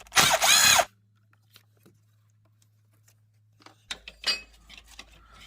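A power tool spinning a 10mm socket on a 2008-or-later Dodge Caravan 3.3L whirs in one loud, close burst under a second, followed by faint clicks and metallic tool handling.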